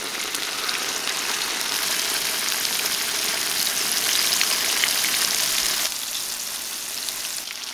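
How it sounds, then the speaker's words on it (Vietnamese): Soft tofu fries in plenty of hot oil in a pan over medium heat, giving a loud, steady sizzle and crackle that holds throughout with a slight drop near the end. "Dầu nóng thì mình cho đậu vào chiên với lửa vừa."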